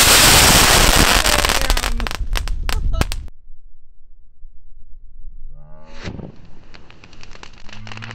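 A homemade New Year's firecracker bursts with a loud, dense crackling blast for about three seconds, then cuts off sharply, leaving quiet before voices shout and cheer.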